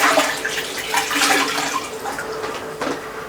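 Water runs steadily from a tap, a loud, close hissing splash that lasts the whole moment with slight fluctuations.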